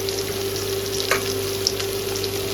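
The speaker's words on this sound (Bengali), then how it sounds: "পেঁয়াজটা একটু ভেজে নেবো বাদামি কালার করে।" Onion fries in a pan until brown, giving a steady sizzle and crackle with a constant background hum and a couple of faint clinks, no talking.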